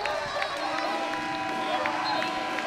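A basketball arena crowd at Millett Hall during a Miami RedHawks game makes a dense, steady roar of noise and cheering, fairly loud and continuous with no clear talk on top.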